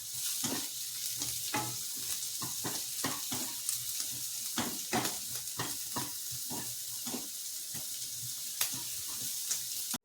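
Egg frying in a pan alongside sautéed vegetables, with a steady sizzle and repeated sharp scrapes and clacks of stirring, close and fairly loud, no voices.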